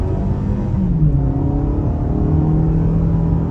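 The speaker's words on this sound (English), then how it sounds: "the 4-cylinder here actually has a pretty aggressive note to it" A 2024 Toyota Camry LE's dual-overhead-cam four-cylinder engine pulls hard under acceleration, a loud, steady, rising engine note heard from inside the car with no talking.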